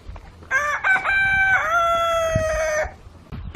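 A rooster gives one long, loud crow at close range, lasting about two seconds, amid faint farmyard background noise.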